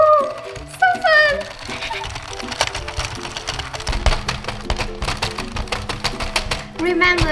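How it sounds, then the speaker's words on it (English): A toy knitting machine cranked by hand, a quick run of rhythmic plastic clicking and whirring after excited speech. "Remember to turn this machine just one side and not to the other, or else it will loosen and you will break the scarf"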